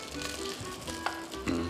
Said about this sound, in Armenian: Տապակվում է սմբուկը,